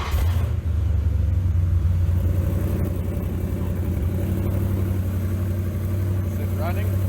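A 1939 Dodge truck engine fitted with headers runs loud and close, a steady rough low rumble throughout with slight variations in pitch.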